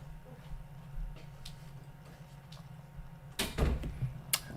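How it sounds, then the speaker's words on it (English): A door pushes shut in a quiet room, a short cluster of knocks and a latch click near the end, close by and fairly loud against low room hum. "Close the door, please."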